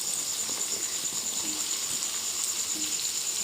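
Cut potatoes frying in a pan for an Assamese chicken curry, giving a dense, steady, close sizzle with a high hiss and occasional faint stirring.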